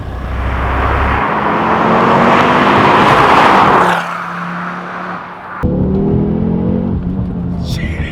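A Ford Focus RS five-cylinder engine revs hard toward 7,000 RPM with a rising, loud, rasping tone, drops away briefly, then surges again into a second strong rev.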